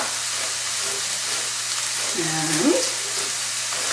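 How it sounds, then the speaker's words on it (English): Ground meat browning in a pan for a cabbage roll casserole gives a steady, close frying sizzle and hiss, with a brief scrape of stirring near the middle and a single spoken word at the start. "I can smell the browning on the meat, so it's time to give it a stir."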